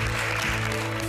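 A studio audience on a television show gives a round of applause to Mike Pullin, a hospice fundraiser. The clapping is dense and continuous, with a sustained tonal hum running beneath it.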